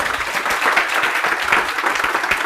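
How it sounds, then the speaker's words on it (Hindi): Students in a lecture class break into loud, vigorous applause, a close and energetic burst of many hands clapping with slight rhythmic pulses and no voices over it. "तो एक बार जोरदार ताली आप सब लोगों के"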